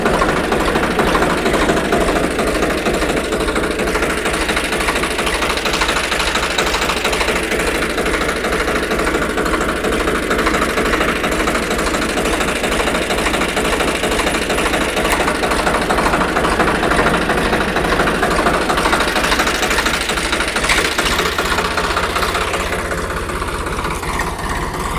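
A tractor engine running steadily at a field at night, a loud continuous idling rumble with a knocking pulse that holds unchanged throughout, with no voices over it.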